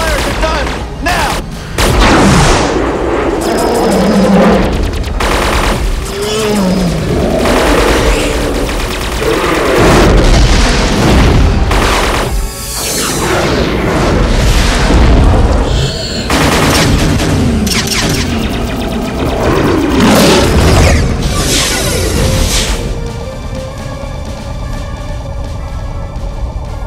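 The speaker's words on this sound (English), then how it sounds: "fire the gun, now!" Heavy gunfire aimed at a giant creature in a monster movie, with rapid bursts and booming blasts rolling through a loud, busy soundtrack as voices shout between the shots.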